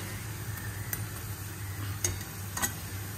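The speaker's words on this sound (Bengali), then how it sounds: "বড়াগুলো ভাজা হচ্ছে, মিডিয়াম ফ্লেমে ভাজতে হবে যাতে জ্বলে না যায় আর ভেতরটাও ভাজা হয়।" Khoi fritters (bora) fry in a pan over a medium flame with a soft, steady sizzle, broken by a few brief clinks of a utensil stirring or turning them.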